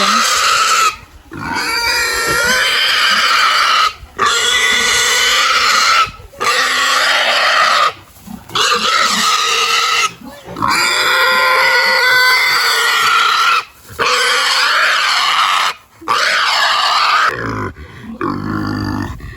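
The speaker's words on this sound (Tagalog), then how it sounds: "Pahirapan pong kunin yung baboy" Loud, sustained squealing from a pig being caught, in repeated long bursts separated by short gaps, with frantic grunts, nearly continuous for the whole stretch.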